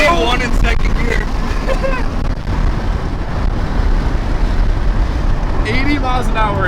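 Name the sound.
Honda car engine accelerating in second gear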